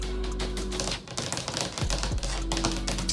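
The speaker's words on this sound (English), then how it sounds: "Over here, I'm gonna be typing. You know, I'll be typing like" Fingers type on a keyboard at a desk with rapid, irregular clicks and taps, close and steady over a low background hum.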